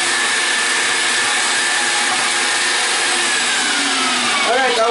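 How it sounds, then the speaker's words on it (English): An electric meat grinder runs while grinding onions for Armenian lula kebab, giving a steady, loud, whirring motor drone without pause. "Alright, I'll turn the machine off for a second."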